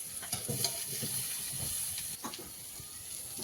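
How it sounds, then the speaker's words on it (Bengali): Slit green chilies frying in a pan with onion tempering until they turn reddish, a soft close sizzle and hiss with a few stirring scrapes, fairly quiet throughout. "কাঁচা লঙ্কা লাল লাল করে ভাজা হয়ে গেছে"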